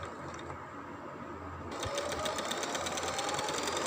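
A sewing machine stitches a trouser seam, first running quietly and then speeding into a loud, rapid, steady mechanical rattle up close.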